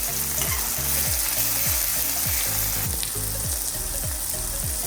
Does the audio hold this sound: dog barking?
no